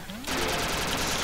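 Sudden burst of gunfire in the video game Duck Game, a dense loud crackle of shots that cuts in abruptly and keeps going.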